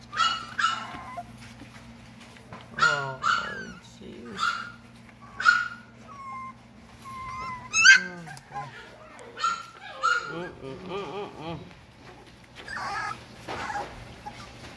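Young cocker spaniel–dachshund cross puppies give short, spaced barks, high yips and thin whimpers in a quiet room, with a low steady hum beneath and a little soft talking between the calls.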